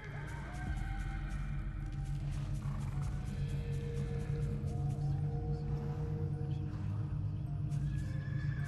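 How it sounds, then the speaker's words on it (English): A horse in the video game Tandem: A Tale of Shadows neighs in long, wavering whinnies, loud and close over a constant low game ambience, with a voice speaking briefly. "Hello, horsey."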